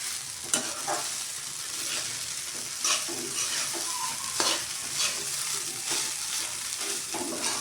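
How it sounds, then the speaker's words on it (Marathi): Poha stir-fried in a pan over high flame gives a soft continuous sizzle with repeated scraping strokes and occasional light clatter, moderately quiet and close, with no talking. "गॅस कसा फास्ट करूया आणि पोहे छान परतून घेऊया याच्यामध्ये।"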